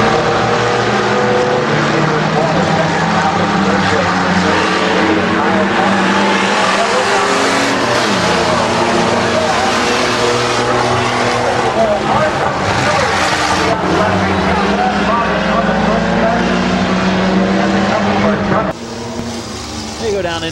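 Racing trucks roar around the Midvale Speedway track on loud, continuous engine noise as the pack heads into the first turn, with a commentator's voice mixed in under the din throughout.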